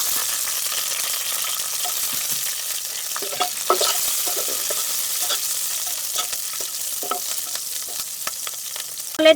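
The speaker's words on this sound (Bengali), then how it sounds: "এখন একটু কড়াইতে সরিষার তেল দিয়ে দিচ্ছি ফোড়নের জন্য দিয়ে দিচ্ছি কালো জিরে" Nigella seeds and slit green chilies fry in hot mustard oil in a wok, a continuous loud hissing sizzle with scattered crackles and stirring scrapes, with no talk.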